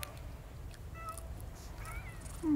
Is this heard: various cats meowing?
yes